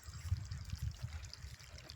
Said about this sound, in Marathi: हे बघा आता इकडं पाणी चालू आहे.